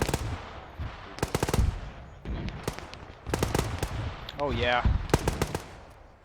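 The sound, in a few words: mortar and gunfire in the video game ArmA 3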